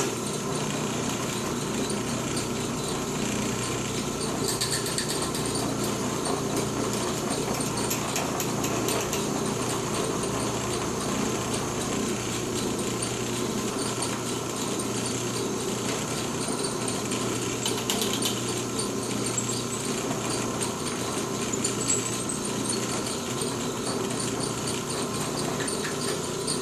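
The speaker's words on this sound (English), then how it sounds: "drill out the excess wood that's in the hammer handle" In a workshop, a drill bores old wood out of the eye of a hammer head, giving a steady, continuous motor whine with grinding texture that holds for nearly half a minute, close and fairly loud, with no talking.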